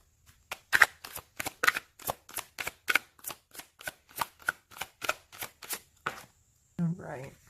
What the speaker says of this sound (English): we're going to finish shuffling here